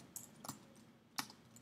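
A handful of quiet, separate key clicks on a Mac computer keyboard as a command is typed, close and isolated with brief pauses between strokes.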